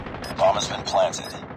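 Two gunshots in a video game shooter, a Search and Destroy round, ring out about half a second apart at moderate loudness over steady background game noise, one of them a headshot.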